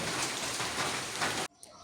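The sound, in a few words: rain falling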